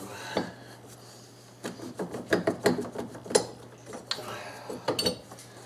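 A ratchet works a bolt loose on a 1995 Oldsmobile 3800 engine with scattered metallic clicks and clunks, some in quick runs, close by and fairly quiet.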